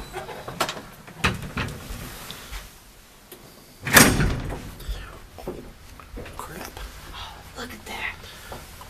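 Old hotel elevator doors in Rome are slid and swung open with a sharp metallic clatter and scrape midway, surrounded by rumbling handling noise and nearby voices.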